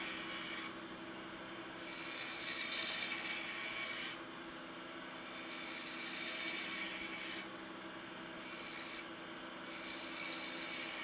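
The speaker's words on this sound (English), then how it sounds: "I'm just using the wing of this little spindle gouge to cut this." A small spindle gouge cuts wood on a lathe, making a continuous close scraping, rasping hiss that swells and eases in long passes over the whirr of the spinning workpiece.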